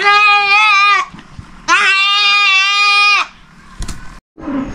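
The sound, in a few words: goats bleating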